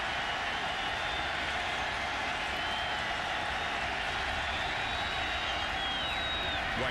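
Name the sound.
Pitt Panthers football stadium crowd cheering on third down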